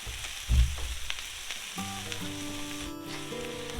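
Philly cheesesteak filling sizzling on a Blackstone griddle, a steady frying hiss with a soft bump near the start and some faint tonal background sound over it.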